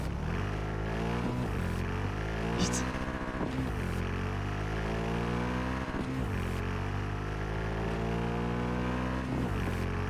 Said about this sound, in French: C'est chiant comme bruit de moto là